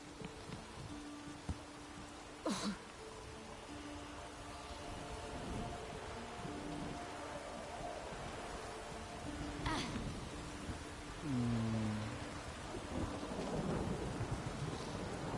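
Rain falls steadily and thunder rumbles at a distance in the video game The Witcher, set in Novigrad. Together they form a constant soft wash with occasional deeper rolls, and faint game sounds sit underneath.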